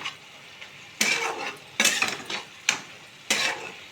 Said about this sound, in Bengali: এবারে দিয়ে দেব ভেজে রাখা ডিমের ঝুড়ো, দিয়ে খুব ভালোভাবে মিক্স করে নেব।